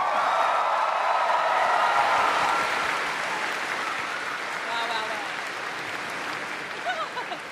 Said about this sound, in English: can we please get one more round of applause